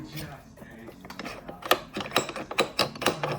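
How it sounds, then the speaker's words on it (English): Sharp metallic clicks tap out in a quick, irregular series, close and crisp, growing busier toward the end. "Sounds like metal on metal instead of metal being stopped by rubber."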